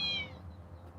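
Parker, a pet cat, gives a single short meow that rises and then fades, heard close but fairly soft against a quiet background.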